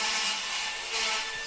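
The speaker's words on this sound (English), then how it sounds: "They're doing construction." Construction work just outside, with wood being sawn in a harsh, continuous rasping burst that swells and dips briefly, fairly loud and without voices.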